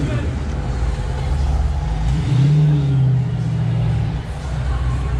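Retro 1980s and 1990s cars roll into a street car meet, their engines rumbling steadily nearby with one rising rev in the middle, amid outdoor crowd noise.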